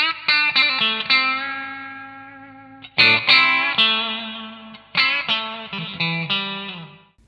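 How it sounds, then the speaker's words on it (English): A Harley Benton ST62 electric guitar through a Blues Driver overdrive pedal, with a gritty tone, plays sustained chords and notes that ring out and decay, followed by a few choppier struck phrases. "I'm going to start off with kind of a distorted tone going through the blues driver"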